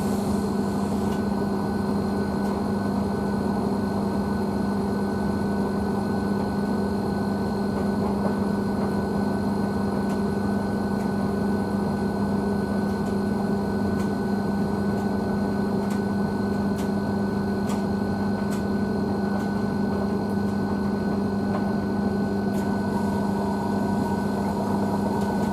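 Blomberg WNF9448 washing machine spinning at 600 RPM on a fast full load of mixed fabrics, giving a steady droning hum with a constant pitch and faint clicks and knocks from the drum, even and continuous throughout.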